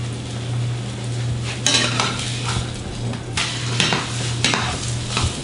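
Salmon fillet sears in a hot pan, a steady sizzle broken by a few sharp scraping clatters of a utensil as it is flipped, close and clear with no talking.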